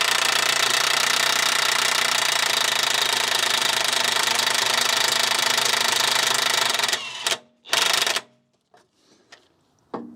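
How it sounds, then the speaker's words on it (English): An impact wrench loosening a ball joint nut on a BMW front control arm, a loud continuous rattling hammer for about seven seconds, then a few short bursts and faint clinks as it stops. "I'm just going to try and impact that"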